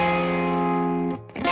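Distorted electric guitar played through a tube amp, a sustained crunchy chord ringing loud and close with reverb, then cut off and followed by a quick percussive strum.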